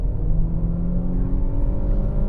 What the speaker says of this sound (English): Renault does is they introduce a noise through the speakers